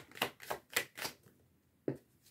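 Oracle cards are shuffled in a run of quick papery riffles and slaps, close and fairly soft, with a pause before one final snap.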